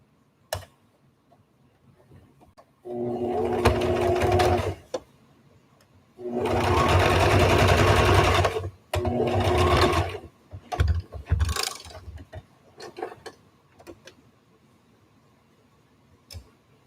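A sewing machine stitches darts into a tie-back fabric face mask, running in three loud, close, steady bursts separated by brief pauses, followed by lighter mechanical ticks and clicks as the work is adjusted.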